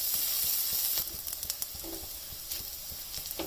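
Onions fry for moong dal in a pan with a continuous close sizzle and hiss, loudest at first, then with light scrapes and taps of stirring.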